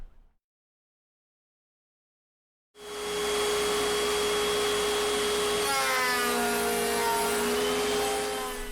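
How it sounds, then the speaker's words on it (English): A router cutting a 3/4 inch slot through a piece of scrap wood starts up after near silence, a loud steady high-pitched whine that shifts in tone as the bit bites into the wood, close and alone with no talk. "I'm running a piece of scrap through my router here"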